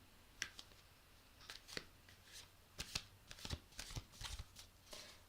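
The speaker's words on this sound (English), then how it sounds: "if you do hear the shuffling, I am sorry" Tarot cards riffle and snap in quick bursts close to the microphone, a series of shuffles separated by short pauses, quiet otherwise.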